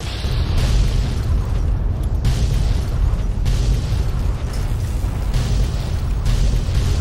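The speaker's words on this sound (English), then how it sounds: "Let's use pulse grenades." Pulse grenades go off in Fallout New Vegas as a dense, loud run of explosive bursts and booming roars that swell at intervals over a constant heavy rumble, close and with no talking.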